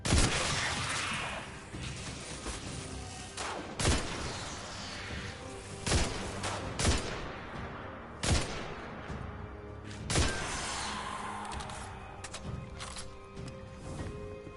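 Gunfire in the video game Destiny 2 shoots at the player: a loud series of sharp, separate shot bursts at irregular intervals, set against a dense, steady in-game background of rumbling and texture, with no voices present.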